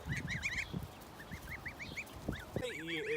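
Geese honk repeatedly in quick, rising calls, with chickens and goats mixed in on a small farm; a few low thumps and scattered noises sit underneath.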